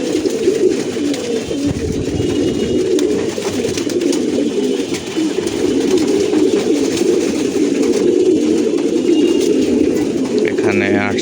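Pigeons coo steadily and close by in a loft, a dense continuous murmur of many birds with no speech over it.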